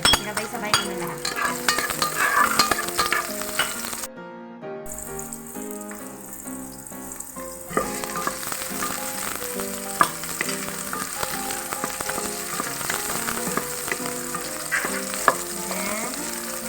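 Chopped garlic, onion and ginger sizzle and fry together in a hot pan while being stirred, a steady bright crackle with occasional scraping of the utensil, no voices.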